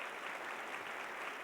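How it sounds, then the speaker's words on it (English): A crowd at a plenary session applauds a congressman with steady, even clapping from many hands. It sounds fairly distant and soft, with no clear speech. "We got to give him another round of applause."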